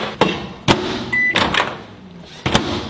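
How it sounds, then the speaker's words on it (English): Microwave oven heating a protein rice cake, with a low steady hum under a few sharp clicks and thumps, including a brief beep near the middle, close by in a kitchen. "In the microwave for another 45 seconds to a minute."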